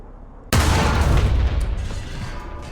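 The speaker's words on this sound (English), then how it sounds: "its gun's pretty powerful too." A tank's main gun fires in the video game War Thunder: one sudden loud boom followed by a long rumbling decay, alone without talk.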